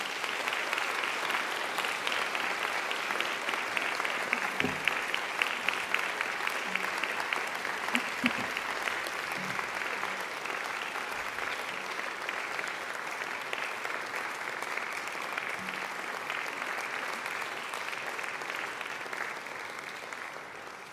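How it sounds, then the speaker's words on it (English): Graduation ceremony audience gives a long, dense round of applause, with steady clapping from a large crowd filling the hall for the whole stretch. "I invite you to give them a mighty round of applause"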